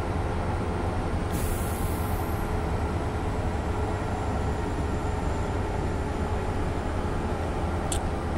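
A train slows under braking in Train Simulator 17, a constant heavy rumble of wheels and running gear with a sharp burst of air-brake hiss early on and a faint high squeal near the end.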